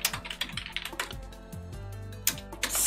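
Keys clatter on a computer keyboard in rapid, uneven bursts of close, crisp clicks as code is entered in Cocos Creator.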